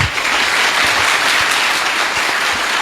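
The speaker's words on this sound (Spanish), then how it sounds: "Aplauso fue para el hermano" Loud, close applause from an audience at a religious debate, dense and sustained clapping for the whole moment, with no talk over it.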